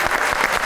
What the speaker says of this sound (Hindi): इंजी भाई के लिए तालियां हो जाएं